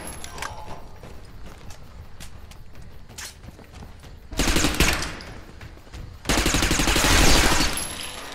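Gunfire in the sci-fi shooter Interstellar Marines: scattered clicks and light taps first, then two loud sustained bursts of rapid automatic fire close by, the second longer and heavier.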